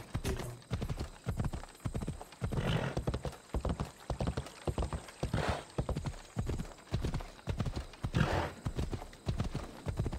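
A horse gallops under a rider in Assassin's Creed Odyssey, its hooves beating in a steady, close, repeating rhythm for the whole stretch, with no talk over it.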